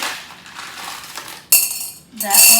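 Small stones rattle and clatter into a glass container in two bursts, a bright gritty pouring sound with a short pause between.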